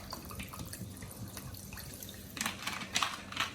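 Club soda pours into a vodka strawberry basil lemonade as a soft, close trickle and fizz, with brief louder splashes near the end.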